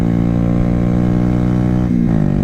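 Honda Grom motorcycle engine held at full throttle going downhill, a loud steady close-up drone with dense harmonics that shifts pitch downward near the end.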